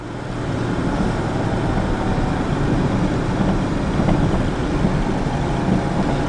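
A Pontiac woody wagon cruises at highway speed, a steady loud engine drone mixed with road and wind rumble that holds an even level throughout, with no voices.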